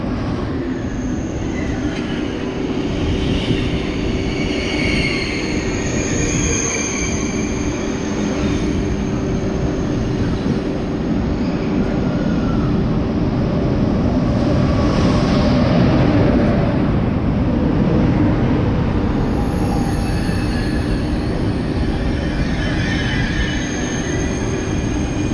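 A Ouigo high-speed train at a station platform, a loud continuous rumble of wheels and machinery with faint squeals, steady throughout with no talk.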